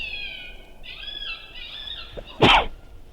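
One abrupt, loud sneeze cuts through after a few seconds of soft, high whining or squeaky sounds.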